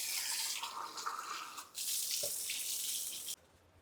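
Fish being rinsed under a running sink tap indoors on a rainy day: a steady close rush of water with a brief break midway and a small clunk, then the flow stops abruptly near the end.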